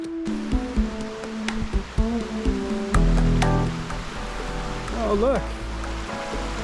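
Creek water flows steadily through a forest during a hike, a broad rushing wash that swells midway, with a few spoken words and some handling knocks over it.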